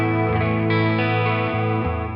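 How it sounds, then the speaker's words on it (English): Electric guitar played through a NUX Cerberus multi-effects pedal with chorus engaged, sustained shimmering chords ringing steadily and loud, with a few chord changes and no talking. "if I hit this switch, it turns on a tremolo and a chorus"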